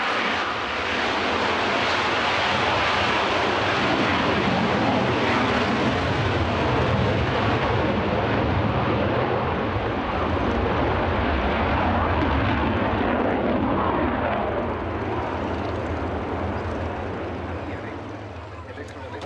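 A Saab J32 Lansen jet flies at the 2011 Jönköping air show, producing a loud, steady, broadband roar that fills the whole stretch and eases off slightly toward the end.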